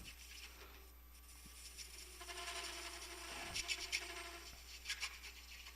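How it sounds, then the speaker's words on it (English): Scraping and rasping as a hand tool cleans drilled lead off a turned wooden finial, a soft continuous rubbing with a few brief louder strokes, close by and without talk. "I'm just going to clean this"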